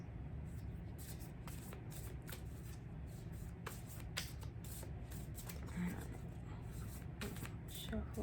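Tarot cards are shuffled in quick repeated riffles, a soft papery flutter close by, with faint speech underneath.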